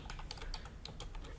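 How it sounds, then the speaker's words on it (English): Quick, light keystrokes on a computer keyboard, a close and quiet run of clicks typing into a search box. "In the search plugins box, type here"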